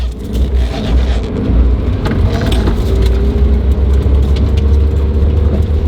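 Old barn-find Mazda 323 GT car driving on a road after sitting for 27 years, a loud steady engine drone with road rumble and faint clicks, heard from inside the car.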